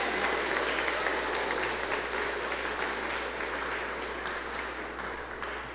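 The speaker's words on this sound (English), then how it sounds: "So give Caleb a big round of applause." Steady applause from a concert audience at a spring academy concert, dense clapping holding at a loud level for several seconds and easing slightly toward the end, with no talking over it.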